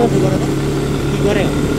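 A motorcycle with weak pickup drones steadily at moderate speed, a constant mid-pitched hum with slight pitch shifts as the bike rides along.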